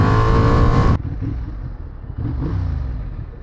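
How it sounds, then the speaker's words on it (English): A 2025 Honda CB750 two-cylinder engine with stock exhaust revs hard and loud, then cuts to a lower, throbbing idle with uneven pulses. "the sound of this 2-cylinder is absolutely beautiful, even with the stock exhaust"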